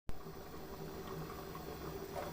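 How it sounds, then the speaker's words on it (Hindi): Water at a rolling boil with rice in a pot for beef pulao, a steady close bubbling hiss that fills the whole stretch without pause. "पानी उबल रहा है।"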